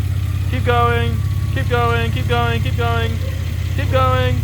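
Mitsubishi FTO GPX engine idling steadily with a low, even drone while someone talks over it.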